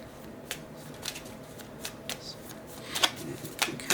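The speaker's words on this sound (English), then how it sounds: "So we're going to pull out 9 cards." Tarot cards being shuffled and drawn, a quiet series of soft riffling flicks and snaps spread unevenly across the moment, close and fairly faint with no talking.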